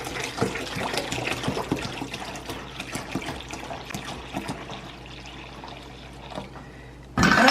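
Water trickles and splashes into a bowl of salt brine being mixed for a wild turkey, a continuous uneven pour that thins toward the end before a sudden louder burst of splashing.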